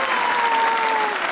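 A studio audience at a Pakistani TV comedy talk show applauds in a full, even wash of clapping that holds steady throughout, with a faint tone gliding underneath.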